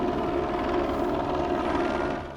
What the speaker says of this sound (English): So they just launched that chopper